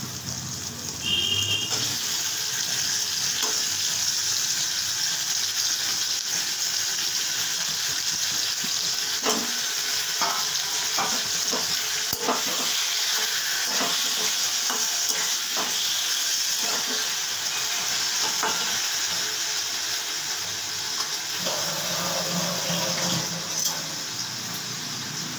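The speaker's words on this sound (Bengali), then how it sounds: "এবার আমি দিয়ে দিচ্ছি আগের থেকে ম্যারিনেশন করে রাখা চিকেনের পিসগুলো।" Marinated chicken pieces fry in a hot pan with a continuous loud sizzle, punctuated by scraping and clattering as they are stirred, with no voices over the steady hiss.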